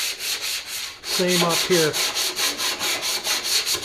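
Sanding a 1966 Ford Galaxie hood down to bare metal, a steady rhythmic rasp of strokes repeating close and loud, with a brief spoken remark partway through.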